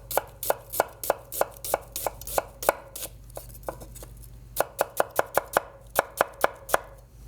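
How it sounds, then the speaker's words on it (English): A knife cuts an onion into thin slices against its rings on a cutting board, giving a steady run of sharp, close knocks with two brief pauses and no talk. "I just want thin slices, so I'm gonna let the onion and the shape of the onion do most of the work for me and just cut against those rings."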